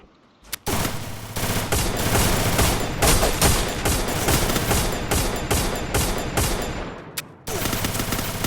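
Loud, sustained automatic gunfire from a video game rattles almost continuously for several seconds, with a brief gap near the end before the bursts resume.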